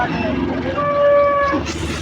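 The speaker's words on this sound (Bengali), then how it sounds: "হিউজ পরিমাণ গরু আসছে সেই বিখ্যাত চান্দেগানা হাটে" A cow moos once with a long, clear, drawn-out call amid the crowded bustle of the Chandaikona cattle market, with a steady murmur of other activity behind it.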